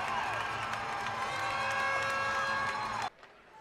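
A junior hockey crowd in an arena cheers and roars steadily after a fight as a player heads to the penalty box, a sustained loud wash of voices that cuts off abruptly near the end.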